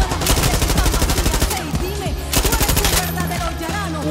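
Rapid machine gun fire in the video game Far Cry 6, loud dense bursts of evenly spaced shots with short pauses, plus other game effects.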